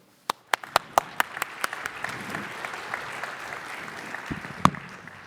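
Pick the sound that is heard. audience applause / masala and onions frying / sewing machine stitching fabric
audience applause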